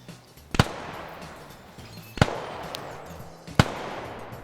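Gunfire in a large multiplayer PvP military video game match, three sharp, loud shots spaced over a few seconds, each with a short rumbling tail over a low ambient battlefield bed.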